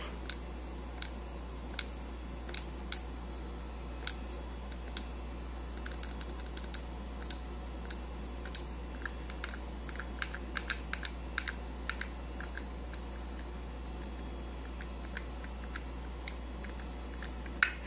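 Button presses on a 1996 ATI video capture card setup with a console connected, heard as sparse, sharp clicks scattered across a steady low hum with no talking.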